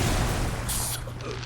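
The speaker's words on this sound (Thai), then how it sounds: "ปาระเบิดใส่ครับ" A bomb explosion in the video game Naruto Shippuden Ultimate Ninja Storm 4, a loud burst and rumble followed by a bright crackling spray of debris that quickly fades.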